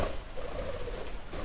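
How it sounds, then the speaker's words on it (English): Birds in the video game Observer coo softly in a low, murmuring rhythm, faint and somewhat muffled against a dim background hum, with no talking. "Oh, fucking birds."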